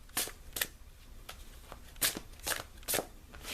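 Angel oracle cards being shuffled by hand in a quiet room, with a series of crisp riffling bursts arriving in an irregular rhythm, each burst short and close, separated by softer handling sounds.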